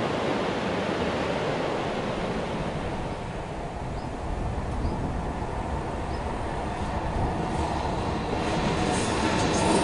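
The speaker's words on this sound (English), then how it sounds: "This sequence shows the same train twice to demonstrate the height it gains on a spiral in" A train climbing a spiral route up a Swiss mountain rumbles steadily along the rails, a continuous broad roar with faint wheel clatter, close and loud throughout.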